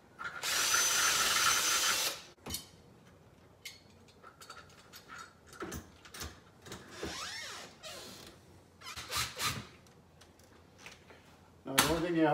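A power drill whirs in short bursts while driving a screw into a Schlage door lock, with a loud opening run, several brief spurts in between and a final burst, and a person talking quietly in the gaps.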